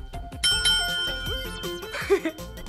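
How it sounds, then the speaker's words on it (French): A bicycle-style bell rings a few times in quick succession amid bright tonal chimes, fairly close and moderately loud. "Une sonnette!"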